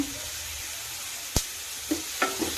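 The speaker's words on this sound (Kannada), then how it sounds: "ಚೆನ್ನಾಗಿ ಫ್ರೈ ಆಗ್ಬೋದು ಹಾಗೆ ಸ್ವಲ್ಪ ಕರ್ಬೇವು ಹಾಕ್ಕೊಳ್ಳೋಣ" Curry leaves fry in hot oil for an egg chilli chicken dish, with a low steady sizzle broken by a few sharp, close crackling pops and spits. No voices.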